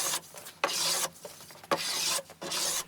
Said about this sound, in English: I can carefully plane back the proud top edge of the lipping